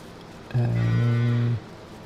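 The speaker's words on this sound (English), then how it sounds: "That cow said no." A cow in the video game Farming Simulator 25 lets out a single loud, sustained moo of about one second, steady and close, with no talking over it.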